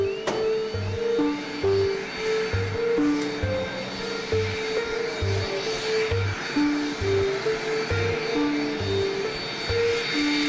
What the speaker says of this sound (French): enfin propulsé par ses 4 réacteurs, l'engin d'exception démontre qu'il saura, le moment venu, arracher à la pesanteur ses 560 tonnes